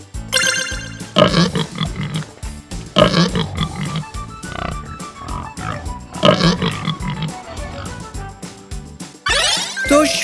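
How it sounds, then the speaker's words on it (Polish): A pig grunting in a series of short, rough bursts spaced a couple of seconds apart, loud and close, with a brief ringing tone at the end. "Świnia chrumka. Krum, krum."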